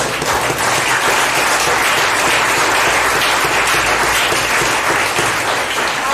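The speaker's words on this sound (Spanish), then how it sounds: "Aplaudo al Señor, hermano, del reposo." A church congregation applauds loudly and continuously during a sermon, a dense, sustained wash of many hands clapping at close range with no talk over it.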